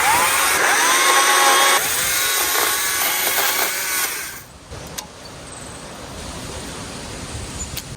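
A small chainsaw trims a rosemary bush, its loud buzzing cut running for about four seconds before dropping to a quieter idle and rustling.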